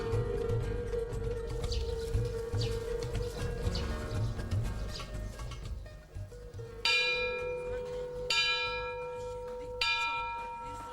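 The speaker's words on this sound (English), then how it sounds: "When you walk in the Tibetan temple, usually there is a bell. You knock 3 times." A temple bell in a Tibetan temple is struck three times, each strike a bright ringing onset with a long shimmering decay, fairly close, following a stretch of busy ambient background.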